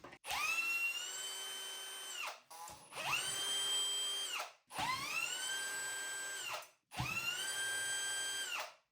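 A power tool whirs in four sustained bursts with brief pauses, loosening the four bolts on the inspection platform of an Akwa Pumps VQD 1.1 kW sewage drainage pump. The steady tonal whine rises and settles at the start of each run.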